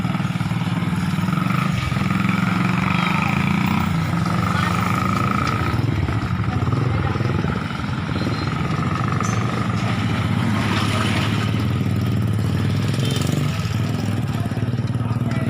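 A small motor scooter engine drones steadily and loudly throughout at a barangay fiesta in Palapag, Northern Samar, with muffled voices talking underneath.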